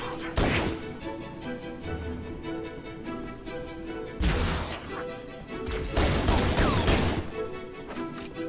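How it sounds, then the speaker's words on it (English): Pistol shots in Halo: Combat Evolved, several sharp separate cracks and impacts spaced across the clip over steady game background sound. "That's just a pistol."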